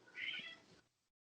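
Rocco, a pet cat, lets out a single short meow, faint and somewhat distant, with no talking over it.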